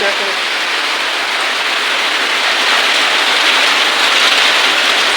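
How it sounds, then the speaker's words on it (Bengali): Heavy rain pouring down in a dense, constant hiss, loud and close throughout. "কি দারুণ বৃষ্টি"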